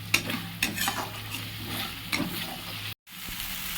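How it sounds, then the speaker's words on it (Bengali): Turmeric, cumin and coriander powder masala fries on high heat in a pan and is stirred. A constant sizzle runs throughout, with several sharp scraping strokes of a spoon and a brief cut to silence near the end. "ভালো করে মিশিয়ে নেব পুরো মশলাটা আর একটু কষবো।"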